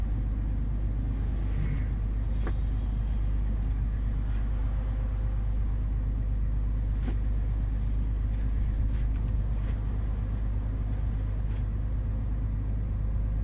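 Car on a snowy highway near İzmit, steady low engine and road rumble heard from inside the vehicle, with a passing vehicle from the opposite direction faintly adding to the continuous drone.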